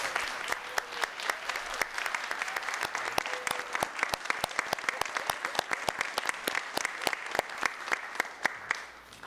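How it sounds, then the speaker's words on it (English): A modest crowd at a Hampton City Schools board meeting claps steadily for a recognized group, with sharp distinct claps in a rhythmic, fairly close patter that fades toward the end. "Let's give this group a big round of applause."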